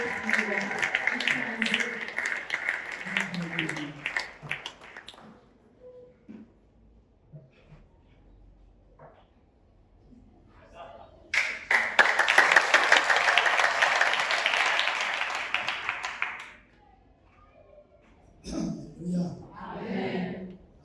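A church congregation at a Sunday service breaks into applause in two loud bursts, the first fading out around five seconds and the second swelling for about five seconds later, with quiet stretches between and voices calling out near the end.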